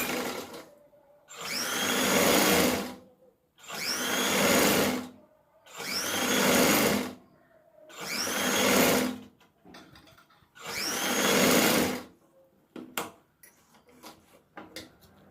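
A sewing machine stitches a blouse in five loud, even bursts, each about two seconds long, with short quiet gaps between them. Faint handling clicks follow the last burst.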